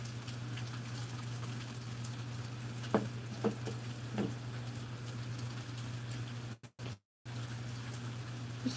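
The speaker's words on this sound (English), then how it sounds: "Just decided to come out here and listen to the rain for a little bit." Steady rain pattering outdoors at night over a low constant hum, with a few soft knocks midway and a brief dropout to near silence before the patter resumes.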